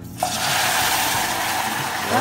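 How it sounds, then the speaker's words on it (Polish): Water, 650 ml of it, pours into a cooking pan in one continuous gush that starts abruptly and runs steadily for about two seconds, close and fairly loud. "a teraz kochani muszę wlać wodę"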